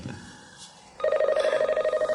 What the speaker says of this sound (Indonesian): Maaf, aku harus angkat telepon dulu.